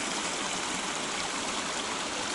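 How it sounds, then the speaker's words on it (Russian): Steady, close rush of water spilling over the edge of a lake, a continuous broadband gush with no pauses and no voices. "Перелив воды."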